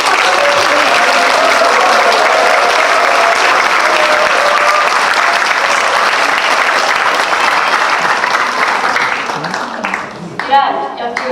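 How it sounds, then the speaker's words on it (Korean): Loud, dense applause and cheering from a concert audience, sustained and close for many seconds before thinning out toward the end, with scattered individual claps and voices in the crowd. "뜨거운 박수와 환호로"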